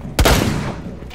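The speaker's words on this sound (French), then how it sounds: "Il me tire dessus." Gunfire in Rainbow Six Siege: a sharp, loud burst of shots opens the moment, then decays into a rumbling, echoing tail, close and dominant with no voices over it.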